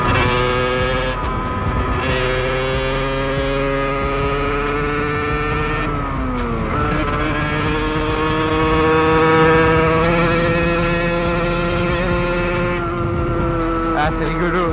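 A 50cc supermoto motorcycle engine drones close by while riding, its buzzing pitch rising and falling with throttle changes and dipping sharply a couple of times over a steady, loud run.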